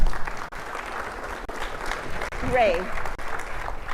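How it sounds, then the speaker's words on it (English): An audience at an opening-remarks event applauds in a steady, dense patter that lasts throughout, with a voice briefly heard over it. "Please give her a round of applause."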